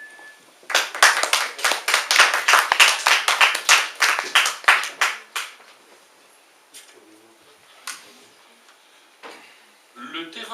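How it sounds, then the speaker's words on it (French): An audience at a concert hall claps for a singer, a loud burst of applause for about five seconds that fades quickly, followed by a few scattered late claps and light stirring. "Merci de l'applaudir."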